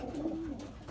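A Belgian racing pigeon at the loft gives a single soft, low coo, close by and fairly quiet.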